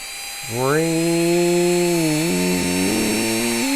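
A sealed-can brushed electric motor for an RC rock crawler spins up at 10 volts, its whine rising quickly in pitch and then holding a steady, loud electric hum with slight wavering near the end.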